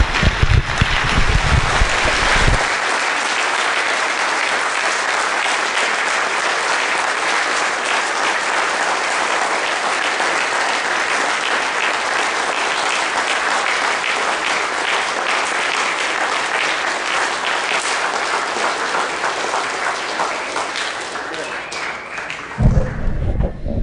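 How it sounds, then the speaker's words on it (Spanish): Sustained, dense applause from a congregation at a religious gathering fills the clip at steady high volume, cutting in after a brief opening and dropping away at the very end. "Palmas triunfales para el glorioso y majestuoso Padre Jehová de los ejércitos."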